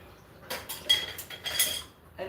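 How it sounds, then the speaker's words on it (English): Pots, pans and cutlery are being washed in a home kitchen: a run of clinks and metallic knocks in irregular bursts, close by and at moderate volume. "Anything that's had meat in it, I have to do separate from my regular pots and pans."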